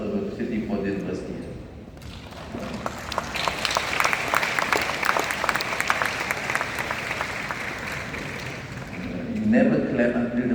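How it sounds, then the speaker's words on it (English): A university hall audience bursts into sustained applause after a funding announcement in a speech, many hands clapping in a dense, fairly steady wash for several seconds, fading as the speaker's voice returns. "You never clap until the money comes."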